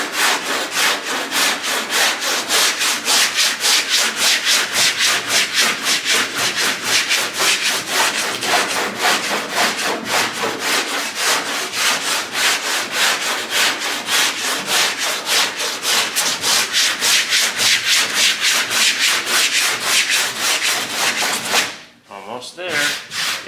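Bondo body filler on a car is hand-sanded in fast, steady back-and-forth strokes, a loud rhythmic scratchy rasp at close range that runs almost without a break and pauses briefly near the end.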